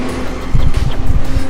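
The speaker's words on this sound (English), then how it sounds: "that's a loud ass truck" A loud truck rumbles past close by on a wide residential street in Irvington, Portland, its low engine noise swelling and fluttering across the short pass.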